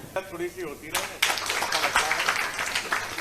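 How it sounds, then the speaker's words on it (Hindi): An audience claps at a stage event in Indore, the applause breaking out after a brief spoken line and continuing loud and dense to the end. "तालियां बजनी चाहिए।"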